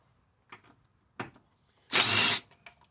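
Power tool zipping bolts out of a Briggs and Stratton engine on a Craftsman mower, a few short ratcheting bursts followed by one louder half-second whir, close and alone.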